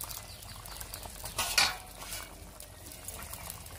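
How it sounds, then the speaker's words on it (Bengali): A spoon stirs pakal fish curry with coriander leaves and cumin powder in a pan, a brief scraping clatter in the middle over a quiet simmering background, close and fairly soft. "একটু নেড়ে দেব।"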